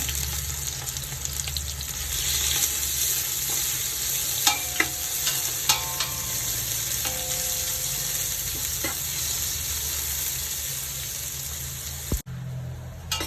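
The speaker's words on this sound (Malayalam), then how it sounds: "ഉള്ളി നന്നായിട്ടൊന്ന് മൂത്ത് വരണം" Sliced onions frying in ghee for ghee rice give a steady, close sizzle throughout, with occasional scrapes and light clinks as they are stirred in the pan, then a brief drop near the end.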